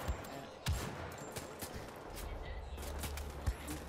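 Bolt-action rifle shots in the video game Wolfenstein: The Old Blood, a few sharp cracks spaced well apart over a steady background hiss, moderately loud.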